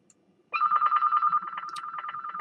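A telephone rings close by indoors with a rapid trilling electronic bell, steady and loud for about two seconds, with no talk over it.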